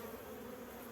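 Honeybees buzzing inside an open beehive, a dense, continuous hum of many wings, close and steady with no breaks and no voices.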